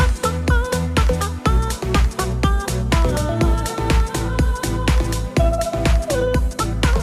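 Russian music plays loudly and without pause: a driving beat with heavy bass hits and punchy percussion under layered melodic lines, no voices heard.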